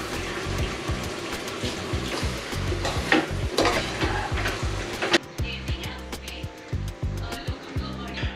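Soaked rice stirred into sizzling pulao masala in a pan, a loud, continuous frying hiss with repeated scraping and stirring strokes close to the mic.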